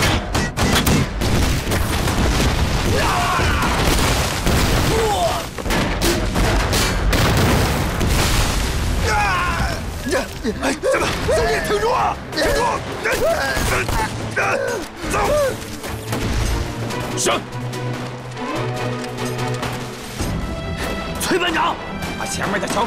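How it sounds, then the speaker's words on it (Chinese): Artillery bombardment in an anti-Japanese war film, with loud, dense booms, crashes and bursts of gunfire running almost continuously and layered with shouting voices. "命令炮兵，给我狠狠地轰击敌人的阵地！"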